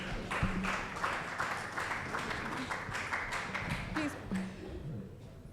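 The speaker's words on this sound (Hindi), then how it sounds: "जोरदार तालियां मैम के लिए प्लीज।" Applause for a woman performer at an awards open mic event: scattered clapping from an audience, fairly faint and spread through the room, running steadily under an announcer's voice.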